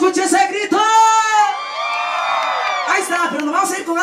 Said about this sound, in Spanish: la gente que ha venido a pasar la vida esta noche, que se escuche ese grito